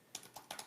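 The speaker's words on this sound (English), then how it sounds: "You going for dramatic effect on the keyboard?" A few computer keyboard keystrokes, struck hard in short separated taps, close and fairly quiet with no talk.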